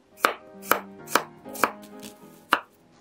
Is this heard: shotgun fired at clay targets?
no